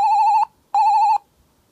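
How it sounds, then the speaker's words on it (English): Two identical retro synthesized beeps made in rFX Gen, bright square-wave tones with a slight wobble, each lasting under half a second and separated by a short gap, loud and alone. "This kind of sounds like the Sonic 1 and no, the Sonic 2 and Chaos and Triple Trouble and stuff on Game Gear."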